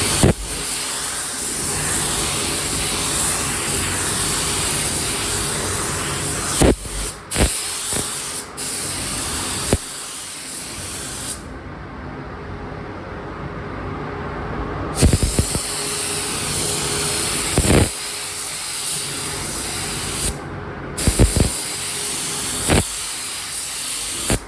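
Continuous hissing bursts from a spray gun laying clear coat over a Honda CBR900RR Fireblade SC28 motorcycle fairing, close and steady, with short pauses between passes.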